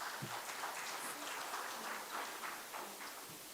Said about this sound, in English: thank you very much for the applause